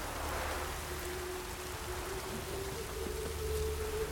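Rain in The Witcher 3 video game, a soft steady hiss of falling drops on surfaces, quiet and even throughout with a faint low tone underneath and no talking.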